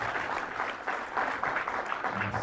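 Wedding guests applaud in a steady, fairly soft wash of clapping that carries through a short stretch, a little muffled and distant, with no voices on top.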